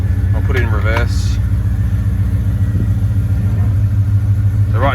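A Nissan Patrol GU fitted with an LS1 V8 idles steadily up close in four-wheel drive as it is shifted into reverse, its low rumble constant throughout, with someone talking over it early on.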